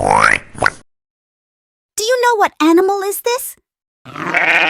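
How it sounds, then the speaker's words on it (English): Sheep at a farm bleating in a short run of wavering, nasal baas, close and clear, with someone speaking before and after. "Sheeps make the sound of baa."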